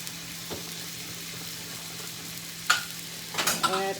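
Pork and vegetables fry in oil in a pan with a steady low sizzle, broken near the end by a few louder scrapes and clatters of stirring; no one speaks.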